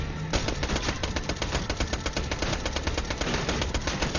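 Submachine gun fire in the video game Borderlands 2: a sustained, rapid stream of evenly spaced shots, loud and close, running steadily after a brief start.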